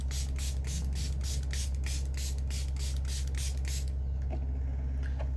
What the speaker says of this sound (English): we're gonna spray the face